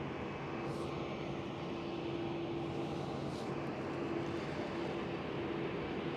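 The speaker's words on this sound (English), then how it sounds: "Right over here we do have a big one arriving, looks like an A330, might be Turkish Airlines." A Turkish Airlines Airbus A330 arrives at Amsterdam Schiphol, its jet engines making a steady broad roar with a low droning hum that stays fairly even throughout, heard from the ground with no talking.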